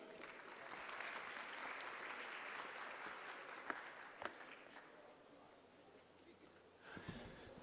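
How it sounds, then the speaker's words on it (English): Applause from a forum audience in a large hall, sustained clapping that gradually thins out over several seconds, with a few sharp knocks and faint voices as it fades. "A big round of applause,"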